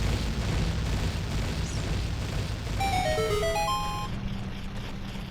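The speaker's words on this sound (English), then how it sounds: "we're gonna watch the explosion" A bomb flower explodes in Zelda Ocarina of Time with a deep, sustained game boom. It is followed by a short melodic chime of descending and rising tones over the rumble.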